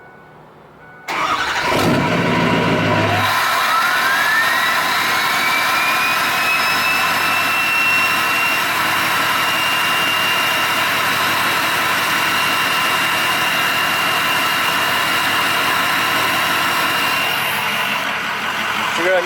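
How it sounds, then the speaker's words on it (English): Turbocharged truck engine warm-started and held at a high, steady rev, loud and close, with a rising turbo whine that climbs and then sustains for most of the run. "warm starts sound a little bit better"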